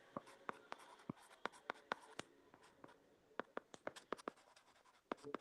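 Pen scratching on paper while a polynomial is written out by hand, a quiet close-up run of short, irregular strokes and taps without talk.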